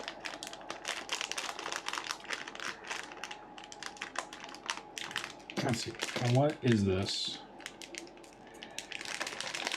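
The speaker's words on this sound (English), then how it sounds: "it's within this plastic bag within a plastic bag" Plastic packaging around a LEGO Harry Potter Hogwarts set crinkles and rustles in quick bursts while being handled and opened up close, with a person speaking over part of it.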